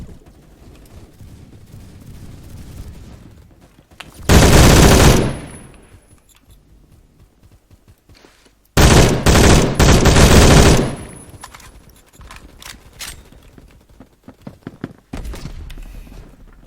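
Gunfire in the Phantom Forces shooter game: two loud, dense bursts of rapid automatic fire, one around four seconds in and a longer one near nine seconds, with quieter game ambience and scattered small clicks between.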